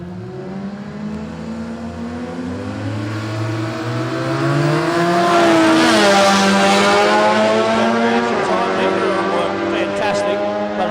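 Toyota Supra and an early model Corolla drag racing, engines revving and droning loudly with rising harmonic sweeps as the cars accelerate, swelling toward the middle, with a voice talking over the roar.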